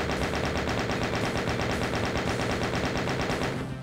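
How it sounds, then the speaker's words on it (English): Chaingun from Doom 2 firing a continuous rapid burst of loud, evenly spaced shots for several seconds, then cutting off abruptly. "Maybe I should chain gun him."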